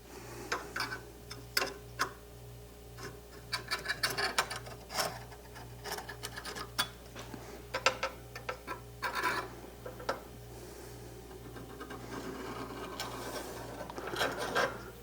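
A metal scribe is drawn down the middle of a metal workpiece to mark the halfway line, giving a dry, scratchy rasping in short repeated strokes over a steady low hum, fairly close with no talking.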